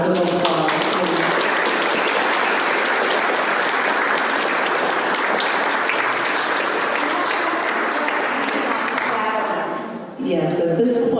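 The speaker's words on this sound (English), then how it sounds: "Janet Dees, a round of applause." An audience applauds a curator at an opening conversation, with dense, loud, sustained clapping that fills the room for about ten seconds before tapering off, and a voice resuming briefly at the end.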